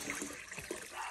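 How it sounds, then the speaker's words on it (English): A gravel vacuum siphons water out of a saltwater aquarium, giving a steady, quiet gurgling and trickling of water drawn through the tube, with no talking. "So this is just a matter of starting a suction and sucking the water down."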